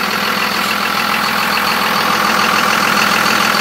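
A 1999 Dodge Ram 2500 4x4 with a Cummins diesel engine and 92k miles idles up close, producing a loud, even, unbroken drone with no talking.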